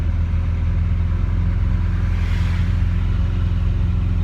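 An Italian sports car driving with a steady, loud engine drone heard from inside the cabin, no voices, just a constant hum and faint whoosh.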